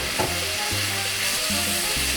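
Sweet Vidalia onion sizzling in a pan over lowered heat for steak fajitas, a continuous close hiss over a low rhythmic hum.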